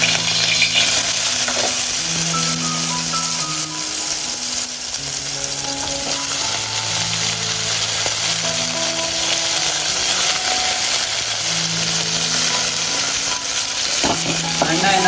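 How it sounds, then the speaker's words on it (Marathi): Sandge, dried lentil dumplings, frying and being turned in hot oil, a loud steady sizzle with scraping stirs running throughout, close up and without talk. "त्यांना थोडा फ्राय करायचे तेलामध्ये"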